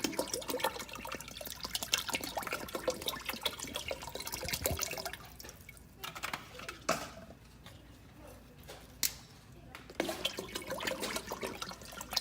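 Bottled water is poured into a pot of Native American corn soup with corn and beans, a steady splashing gush that pauses and restarts several times as each bottle is emptied, close by with no talking.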